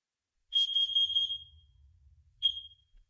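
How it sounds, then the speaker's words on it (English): A smoke detector sounds during a monthly fire alarm test: one long, piercing high-pitched beep, then a short second beep after a pause, loud and close with no voices. "And this is another smoke detector."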